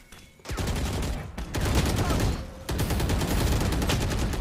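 Dense bursts of rapid video game gunfire from an enemy shooting while sprinting, loud, close and nearly continuous across several seconds, broken by brief gaps, with faint voices underneath.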